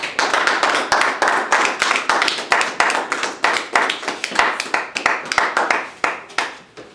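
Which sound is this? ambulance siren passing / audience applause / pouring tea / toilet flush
audience applause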